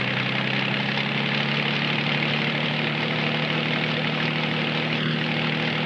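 A helicopter hovers nearby while lifting a rigged trap box on straps, a loud steady rotor and engine drone with a constant low throb and no break.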